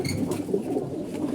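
Pigeons coo continuously in a low, throaty murmur, several birds overlapping at close range with no talk.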